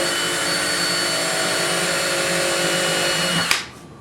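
Power drill boring through the fingerboard of a vintage Martin guitar into the neck pocket, a steady high whining motor drone that runs loud and continuous, then cuts off abruptly near the end and winds down.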